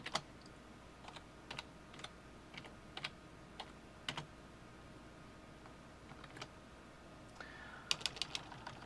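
Keys clacking on a computer keyboard while a text box is edited, sparse irregular taps with short pauses and a quick burst of keystrokes near the end, close and fairly quiet.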